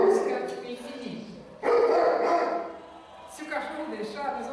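A dog barks repeatedly in loud, close bursts, mixed with a person talking over it.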